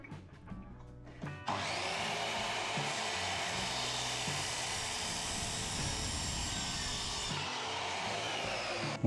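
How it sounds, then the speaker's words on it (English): A standard drop saw cuts through aluminium for a kayak trolling motor mount, spinning up with a loud whine and then screaming steadily through the metal for several seconds close by. "Now you can use a standard drop saw. You don't need a metal drop saw for aluminium, it'll cut through just fine."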